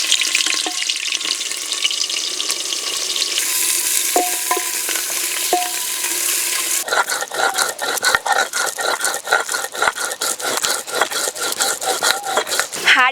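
Chopped onion fries in oil in a clay pot with bay leaves and whole spices, a steady sizzle joined by repeated scraping and stirring strokes that grow busier and more rhythmic partway through.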